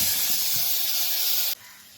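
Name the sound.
garlic, onion and tomato frying in a pan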